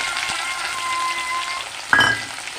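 Onions frying in a pan for chicken curry, a steady close sizzle with a brief louder stir or scrape near the end.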